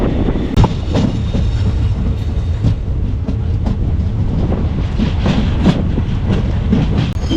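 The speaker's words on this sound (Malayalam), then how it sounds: "ഇപ്പം പെട്ടെന്ന് തന്നെ ട്രെയിൻ എടുത്തേക്കാണ്." A train on the Nilambur line on an electrified route, pulling away from Kalamassery railway station, heard from inside as a loud steady rumble with rhythmic wheel clacks over rail joints.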